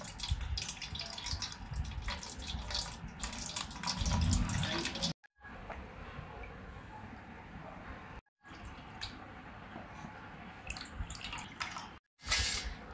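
Chutney strained through a sieve into a large pot drips and trickles steadily, with wet splashing and patters continuing throughout, briefly interrupted by a few short silent gaps.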